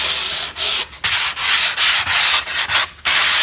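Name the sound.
sanding rough pallet wood with 400 grit sandpaper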